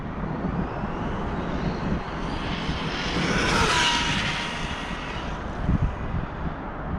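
The Bronze Bomber RC aircraft makes a speed pass, its engine drone rising to a louder peak as it flies past, then fading away, heard alone without talk.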